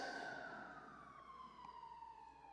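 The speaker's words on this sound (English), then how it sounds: "as I'm listening to the sirens" A distant emergency siren wails with a falling pitch, steady and faint against a low background hum.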